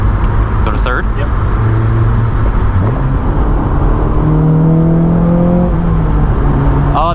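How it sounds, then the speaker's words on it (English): Engine of a 2004 Honda S2000 (AP2) pulling through the gears in third, with rising intake induction noise and revving tones climbing under steady cabin noise while people talk over it. "Got some induction noise there"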